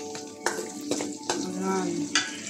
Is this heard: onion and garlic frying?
yes